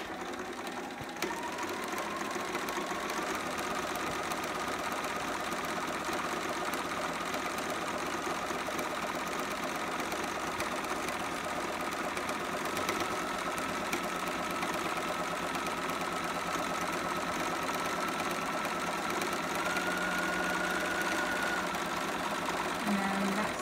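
A sewing machine runs a back stitch along a seam of a child's romper, a steady continuous whir close by with no pauses, and no voice over it.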